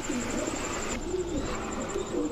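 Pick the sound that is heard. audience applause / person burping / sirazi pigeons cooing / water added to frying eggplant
sirazi pigeons cooing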